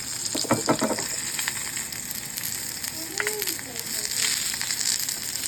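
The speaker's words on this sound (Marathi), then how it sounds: "तळून घेते कढईमध्ये" Steady oil sizzle from eggplant frying in a pan, with a few clinks early on and a faint voice in the background.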